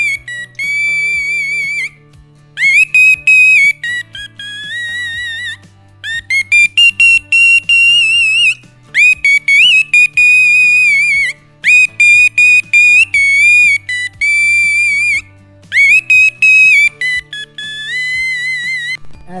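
A man whistles imitations of birdsong, rapid trilling and warbling phrases in short bursts separated by brief pauses, loud and close, with a steady low hum running beneath throughout.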